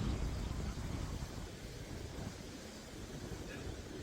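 Wind blows across the Appalachian Trail, a soft, steady broadband rush with gentle low rumbling and no clear pauses throughout.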